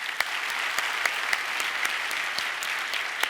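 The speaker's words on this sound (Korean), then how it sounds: "34기 우리 격려의 박수 한번 보내겠습니다." A church audience gives a steady burst of applause, with dense overlapping claps throughout and a few sharper individual claps standing out.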